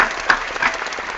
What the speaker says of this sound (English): Do we get a round of applause for Beau joining it?